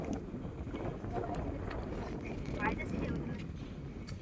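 Wind gusts outdoors in open green surroundings, a steady broadband rush buffeting the microphone throughout, close and fairly loud, with people talking under it.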